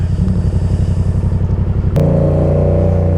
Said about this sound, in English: I hate revving, but I mean, I don't have a choice in the matter, honestly.